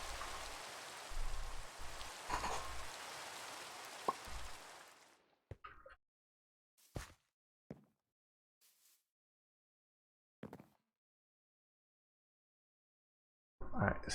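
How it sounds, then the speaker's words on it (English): Video game rain hisses steadily for several seconds, then cuts off abruptly, leaving silence broken by a few short, isolated sounds before a brief noisy burst at the end. "Turn off rain."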